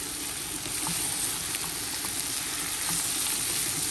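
Karela and keema mixture sizzling in a pan on very low heat, a steady dense hiss with faint crackles and pops running evenly throughout, close and continuous with no talk.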